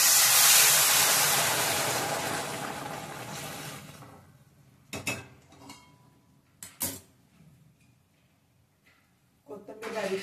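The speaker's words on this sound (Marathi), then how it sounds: "आपण आता उकळी दिलेलं पाणी 3 ग्लास मी घेतले" Boiled water, about three glasses, is poured into a pan of onion and tomato fried in oil for upma, a loud rushing gush that fades over four seconds, followed by sparse clinks of utensils and someone speaking.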